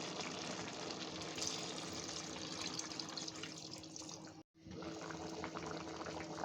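Broth poured into a pan of simmering pumpkin and shrimp curry, a steady liquid rush and bubbling that runs on for several seconds, breaks off briefly, then resumes, with no voices.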